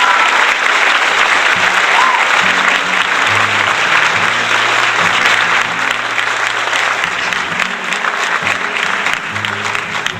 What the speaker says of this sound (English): I want everyone to give you a big round of applause